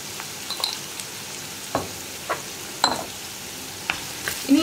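Onion frying in a pan for an aloo gobi curry while being stirred, a soft sizzle under a series of distinct scraping strokes from a spatula, with a sharp clink at the end, close and without voices.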